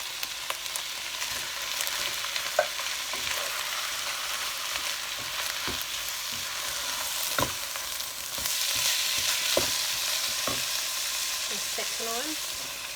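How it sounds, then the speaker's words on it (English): Tomato tipped into a pan of frying bolognese sauce and stirred, a steady close sizzle with scraping spoon strokes and soft clatters, the frying growing a little louder partway through. "Right, so I'm adding the tomato."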